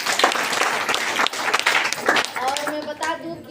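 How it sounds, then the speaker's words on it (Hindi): Meeting audience bursts into loud, close applause, a dense burst of clapping that rises and falls over a few seconds before thinning out toward the end, with voices mixed in. "इन लोग के लिए जोरदार ताली।"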